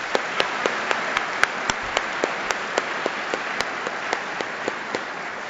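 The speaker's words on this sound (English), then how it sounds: "I think they all deserve a round of applause." An audience applauds young performers with a steady wash of clapping, marked by several sharp, distinct claps popping out above the crowd throughout.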